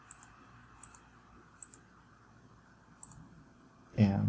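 Computer mouse clicks tick softly and sparsely while working in SolidWorks, a few single and double clicks spaced over several seconds, followed by a burst of louder noise at the end.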